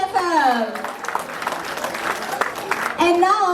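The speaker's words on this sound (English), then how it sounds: "give a huge round of applause to PFL" Audience applause at a Bollywood red carpet premiere, a broad wash of clapping from about one to three seconds, set between stretches of loud amplified speech or singing at the start and end.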